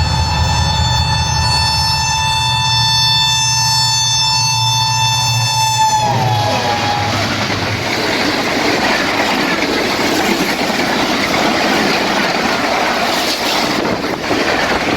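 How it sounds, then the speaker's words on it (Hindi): An express train rushes through a semi-abandoned railway station at Renala Khurd, sounding a long loud harmonic horn for about six seconds, then roaring past close by with heavy rumbling wheel and wagon noise. "क्या खूबसूरत विसल देते हुए गया और कितनी स्पीड से निकला है।"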